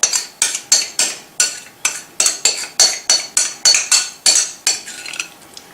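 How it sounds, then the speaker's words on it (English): Crab dip scraped and spooned into a casserole dish: a steady run of about fourteen sharp utensil scrapes and knocks against the dish, close and fairly loud, with no talking. "then you just take it all, put it into the casserole, just like that"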